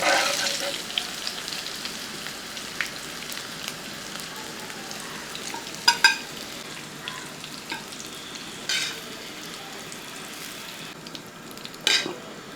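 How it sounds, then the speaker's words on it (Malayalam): Masala-coated pieces fry in hot oil in a pan, a steady close sizzle running throughout with a few brief clinks of a utensil against the pan. "ഇപ്പോൾ 2 സൈഡും ഒന്ന് ഫ്രൈ ആയതിനു ശേഷം നമുക്ക് ഇത് കോരിഞ്ഞിടും"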